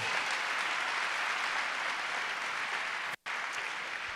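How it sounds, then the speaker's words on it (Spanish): Audience applause for a speaker during a Spanish-language talk, a steady wash of distant clapping from a crowd, with one brief dropout near the end. "Hay que darle un aplauso al rey por esta verdad"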